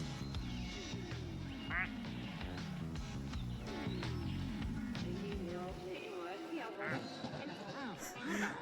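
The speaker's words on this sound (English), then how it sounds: "It's Sailor, the pink duck that says duck you." Squeaky quacks from a pink rubber duck in Placid Plastic Duck Simulator, a game, appear on and off under steady talking, over a continuous background of game sound.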